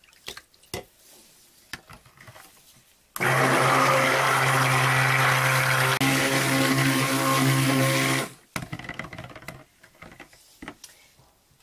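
An electric blender whirs loudly and steadily for about five seconds while mixing additives for cucumber mint cold process soap, starting and stopping abruptly, with soft clicks and taps before and after.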